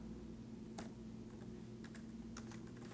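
Light, irregular keyboard typing while entering German text through Google Input Tools, scattered keystrokes and short clusters, close-up over a steady electrical hum.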